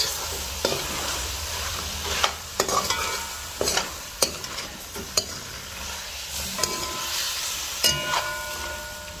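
A pot of curry chicken with bodi and aloo sizzles steadily on the stove, with loud, close stirring scrapes and clanks breaking through the constant frying hiss.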